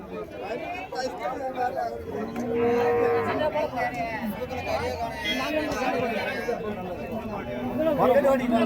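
Draught bullocks moo repeatedly amid a busy crowd at the Uthangarai cattle market, with people chattering and calling nearby throughout.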